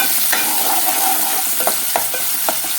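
Mutton keema is stirred with chopped onions in a hot pan, a steady close sizzle broken by several sharp scraping strokes of the spoon against the metal, with no voices.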